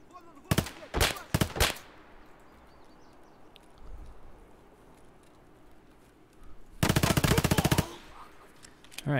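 Short sharp bursts of automatic gunfire in Escape From Tarkov, two quick volleys near the start and a longer rattling burst later, with quiet ambience in between.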